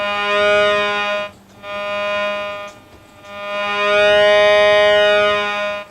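A bright electronic tone from a modified stylophone through a feedback amplifier, with rich overtones, holds steady in three long sustained notes, separated by short gaps, with a slight wavering rise in the last one.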